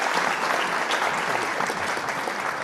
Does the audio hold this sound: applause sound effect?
yes